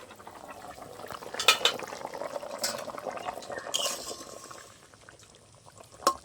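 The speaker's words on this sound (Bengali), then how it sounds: "ঝোলটা ফুটে ভালো করে ওলটা সিদ্ধ হয়ে যাবে" A hilsa fish curry with elephant foot yam simmers in a pot, giving a soft, low bubbling punctuated by a few faint clinks of a utensil against the metal.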